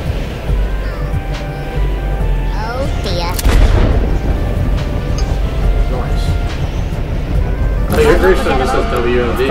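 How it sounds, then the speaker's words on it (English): Bombs and explosions going off in the artillery game Worms WMD, a dense, loud run of booming blasts and crackling impacts with bigger bursts near the start and end, while people talk over the chaos. "Lots of bombs in the air."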